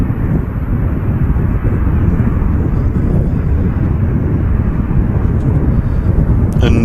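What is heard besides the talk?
EasyJet airliner taking off on the runway to Jersey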